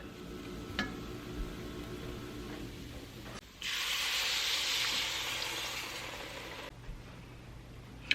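Water poured into a cooking pot of beef pot pie filling makes a steady, close rushing splash for about three seconds, set against a low background hum and faint sizzle.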